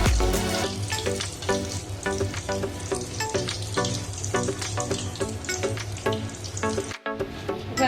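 Modak frying in hot oil, a steady, close crackling sizzle that runs throughout with a brief dropout near the end.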